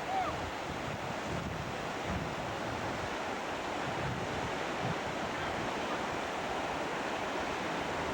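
Whitewater rapids on the River Quoich roar in a steady, dense rush of churning water, loud and unbroken throughout with some wind buffeting mixed in, no voices.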